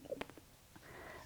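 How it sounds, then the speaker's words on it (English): A faint, low gurgling rumble from a stomach, soft and brief, in an otherwise quiet room. "that was your stomach again"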